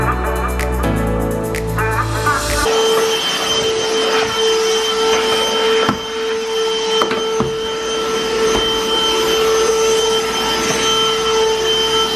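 Vacuum cleaner running steadily over a floor after a thump and brief rattle at the start, a loud continuous whine close by.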